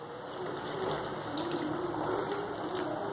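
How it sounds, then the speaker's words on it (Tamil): Hot water being poured into an onion gravy in a pan gives a steady, moderately loud watery gush and splash that keeps going for about three seconds, with no voices. "இப்போ இதில் ஹாட் வாட்டர் கொஞ்சம் ஆட் பண்ணிக்கலாம்."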